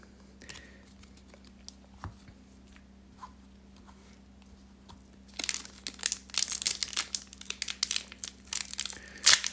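A foil booster pack for the Flesh and Blood card game, Arcane Rising Unlimited, is torn open, a quiet stretch of small handling noises followed by several seconds of loud, close crinkling and tearing foil.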